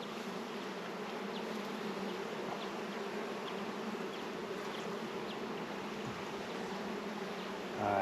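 Honey bees hum in a soft, continuous drone around an open hive as frames are lifted and checked during an inspection. No one speaks.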